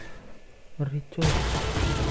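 A bomb blast in Call of Duty Modern Warfare 2 gameplay erupts as a single loud, broad burst after a brief quieter stretch, then rumbles and crackles on to the end, with a voice speaking just before it.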